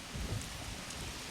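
Steady rain in the video game Tender Loving Care, a continuous soft hiss of falling water with some low rumble underneath, no voices.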